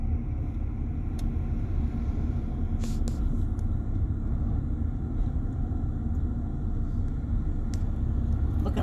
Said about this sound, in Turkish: Şimdi debriyajı salıp gaza geçeceğim